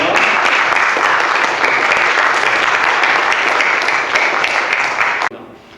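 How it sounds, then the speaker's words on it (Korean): A church congregation applauds steadily with dense, sustained clapping that stops abruptly near the end. "하나님께 영광의 박수 하겠습니다"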